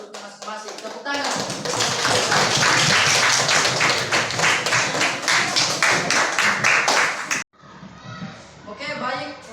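Classroom applause bursts out from a group of students after a presentation, a dense rapid clatter of many hands lasting several seconds, then trailing off as a voice speaks.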